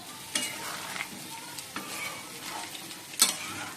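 Chicken sautéing and being stirred in a pan, giving a steady close sizzle broken by a few sharp scrapes and clinks of the spoon against the pan.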